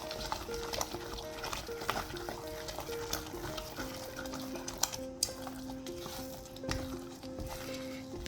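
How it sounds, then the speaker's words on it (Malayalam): A thick halwa mixture with white sesame seeds and cardamom is stirred in a pan, giving soft, repeated scraping and stirring sounds, with faint steady tones in the background. "വെളുത്ത എള്ള സെസം സീഡ് എല്ലാം കൂടി നന്നായിട്ടൊന്ന് മിക്സ് ചെയ്തിട്ട് ഇളക്കിക്കൊണ്ടിരിക്കുക"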